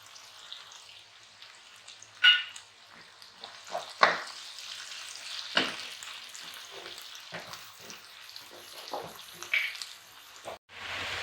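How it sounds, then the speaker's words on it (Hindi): Okra frying in a pan with chopped garlic and green chili, giving a bright, continuous sizzle that is close and fairly loud, broken by a few sharp stirring scrapes and splutters, with no talking. "इकट्ठा इसको हम भून लेंगे।"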